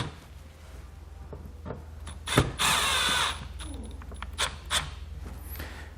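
Screws are run down into a plastic third brake light assembly on a 2015 Ford, with a single short burst of power-driver whir near the middle, framed by small clicks and handling knocks close by. A faint low hum sits underneath throughout.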